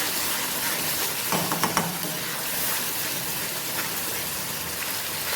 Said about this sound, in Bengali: আবারও কিছুক্ষণ ভাজা ভাজা করবো।